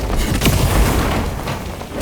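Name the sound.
explosion spell in the video game Dark and Darker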